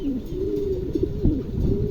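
A low, continuous pigeon coo drones nearby, with soft warbling pulses and faint background noise throughout.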